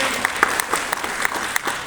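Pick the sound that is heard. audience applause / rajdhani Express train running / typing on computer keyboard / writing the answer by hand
audience applause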